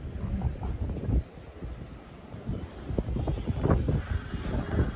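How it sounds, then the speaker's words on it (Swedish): Strong storm wind blowing sand across a construction area in Turkey, a loud continuous gusty roar and buffeting against the microphone that rises and falls without pause. "nu är det fucking storm alltså"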